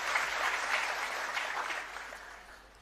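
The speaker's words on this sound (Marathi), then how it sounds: "आता जेवढ्यांनी टाळ्या वाजवल्या त्यांचं अधिकृत कनेक्शन असेल असं मी समजतो." Crowd applause at an election campaign rally, a soft, even patter of many hands heard from a distance that gradually fades toward the end.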